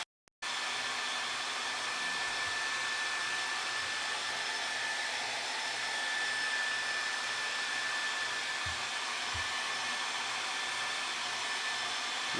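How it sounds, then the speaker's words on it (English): A hairdryer drying a watercolor painting of a bison, a loud steady whirring blow that starts abruptly and runs continuously at close range with slight shifts as it moves, no speech. "I'm going to hit this with a hairdryer, so it's going to sound a little bit loud."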